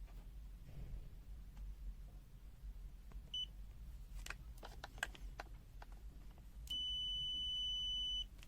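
A TASI TA804B digital multimeter in continuity mode gives a steady, fairly faint electronic beep lasting under two seconds after some scattered clicks and handling noise.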